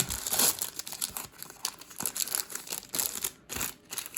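Crisp, close crinkling and tearing of foil wrapper as a Pokémon Fusion Strike booster pack is opened, with continuous rustling in uneven bursts and no talking.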